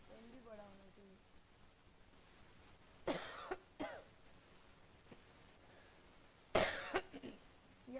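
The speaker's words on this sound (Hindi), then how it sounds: "ऊपर आने के बाद ही खांसी आ रही है" Two separate bouts of harsh coughing from a woman teaching a JEE Mains class, one around the middle and a louder one near the end, with a brief voiced sound at the start and quiet room tone between.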